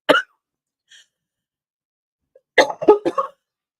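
Short, sharp human cough close by, then a quieter throat noise, followed after a pause by a cluster of several coughs and hiccup-like bursts, with no talk.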